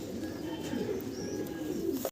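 Moor head pigeons coo at a pigeon farm, a short close run of low throaty cooing with faint chirps in the background.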